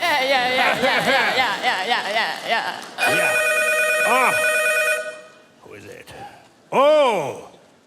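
A telephone rings in warbling electronic bursts, loud and close, with a voice speaking over part of it and a final ring after a pause.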